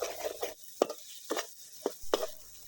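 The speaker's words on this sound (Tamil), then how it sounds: "ஆட் பண்ணி அடி பிடிக்காத அளவுக்கு நல்லா பிரட்டி விட்டுக்கோங்க" A spoon stirs spiced masala with turmeric in a pan while cooking Chettinad chicken gravy, making about half a dozen quick scraping strokes in an uneven rhythm. The strokes are fairly faint and close, with short pauses between them.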